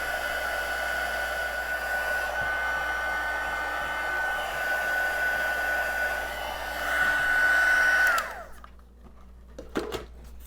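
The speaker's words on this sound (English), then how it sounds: "I'll bring in our heating tool, and then that heating tool," Electric heat tool blowing steadily while melting embossing powder on a stamped greeting card, a loud continuous fan whir with a high whine that drops out near the end, leaving quiet room sound and a few small knocks.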